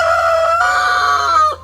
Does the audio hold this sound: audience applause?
no